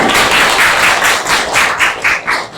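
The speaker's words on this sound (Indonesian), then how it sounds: "Tepuk tangan dulu." A classroom of pharmacy students claps together in a loud, rhythmic pattern, with sharp bursts of hands striking in quick regular succession and no talking.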